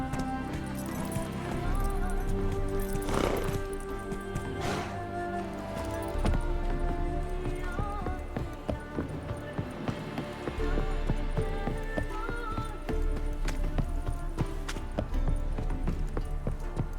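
Roach the horse gallops in The Witcher 3: Wild Hunt, steady clip-clop hoofbeats running through a dense game soundtrack and ambience, loud and continuous with a few sharper impacts.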